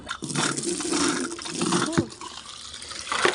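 Water being poured out splashes and gushes up close in a continuous run, with a brief metallic clunk partway through.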